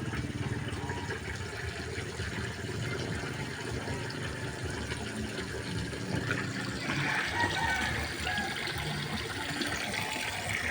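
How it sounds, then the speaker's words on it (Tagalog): Water flowing steadily in a small stream, a continuous broadband rush that holds at an even level and swells slightly toward the end, with no voices over it. "Parang sapa oh."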